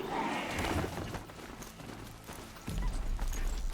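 Rhythmic metallic hoofbeats come from a robot horse mount galloping in Horizon Zero Dawn, a steady clip-clop under a rumbling game soundscape, with no talking.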